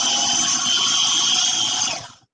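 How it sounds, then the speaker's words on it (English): A kitchen blender whirs steadily at close range for about two seconds while making a savory plant-based bowl, its loud motor whine holding even before cutting off abruptly. "I did my little blender dance there"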